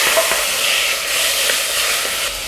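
Pork marinated with sesame oil sizzles and fries steadily in a hot pot over high heat while being browned for kimchi stew, a continuous close hiss with occasional stirring scrapes and no talk.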